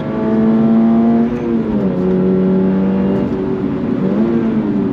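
A 2025 Subaru BRZ tS sports car engine revs hard in first gear and climbs steadily in pitch toward its 7,500 RPM redline, briefly dipping at shifts, loud and close with no talking.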